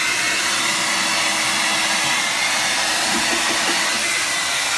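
A Revlon Turbo ionic hair dryer with ceramic coating blows on its turbo setting, a loud, constant close-up whoosh of air with a steady motor hum and no talk.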